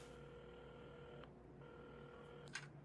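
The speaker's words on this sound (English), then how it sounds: "Carmen had started dialing the phone" A telephone is dialed at a café counter in the video game Assemble with Care: steady electronic tones hum with a short break, then a quick bright beep near the end, all quiet and alone.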